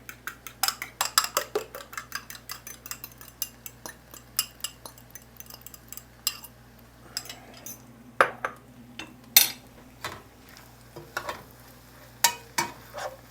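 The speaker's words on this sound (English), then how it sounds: "now I'm going to beat in an egg to pull all this together" An egg is beaten into a stuffed bell pepper mixture in a pot for Cajun cooking, giving irregular clinks and scrapes of a utensil against the pot with a soft sizzle beneath, fairly close and without talk.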